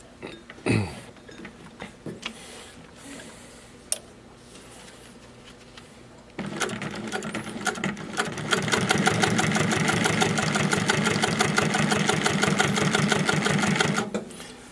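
A TN-1508NH extra heavy walking foot sewing machine with a 3/4 horsepower servo motor stitches samples, starting with a few slow clunks, then running in a loud, fast, steady mechanical rattle until it stops.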